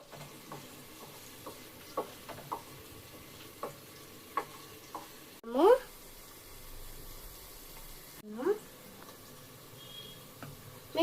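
Potatoes frying in a pan with onion are stirred: faint sizzling underneath, with soft scraping strokes at irregular intervals and two louder clattering stirs.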